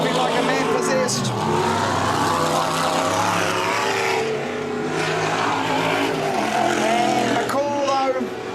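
Off-road race cars on a short course at a national finals event, engines roaring and revving continuously at high volume, with commentators talking excitedly over the racing throughout.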